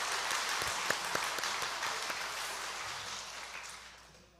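A church congregation applauds during a Sunday service, a steady wash of many hands clapping that fills the room and slowly fades toward the end.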